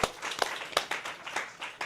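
A small audience claps sparsely at a live community rally, a few distinct claps in an uneven rhythm, fairly close and brief.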